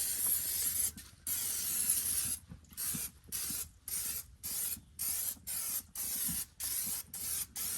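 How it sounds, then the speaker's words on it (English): Bursts of cooking spray hiss onto grill grates in a steady series of short and long pulses, close by, with brief silences between them. "Pam, not a sponsor, is what I use, or whatever cooking spray is on sale."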